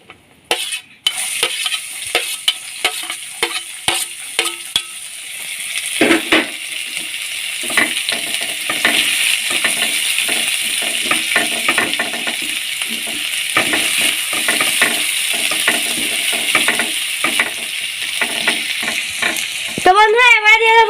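Chopped onion hits hot oil with whole garam masala and chilies in a pan for Bengali fish curry, then sizzles loudly and steadily while a spoon scrapes and stirs with frequent close clinks against the metal.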